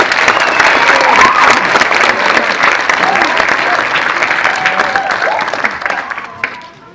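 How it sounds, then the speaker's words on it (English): Loud, dense applause from a large audience fills the room, holding steady before tapering off and fading near the end. "Can you please give them a round of applause?"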